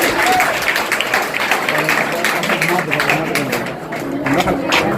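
A crowd at a general-knowledge competition prize giving claps loudly and steadily, the applause holding for several seconds with voices mixed in.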